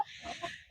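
Laying hens in a backyard flock cluck softly in a short, faint burst of murmuring calls, with a few brief notes rising above a quiet background.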